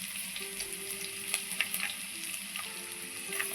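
Chopped ginger frying in oil in a pan for a tamarind fish curry, a continuous close sizzle with faint crackles and a few soft utensil clinks, with no one speaking.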